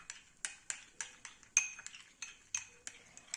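A spoon stirs aloe vera gel and coconut oil in a bowl, producing a series of light, close clinks and taps against the bowl at an irregular rhythm.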